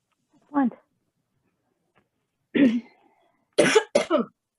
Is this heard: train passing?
no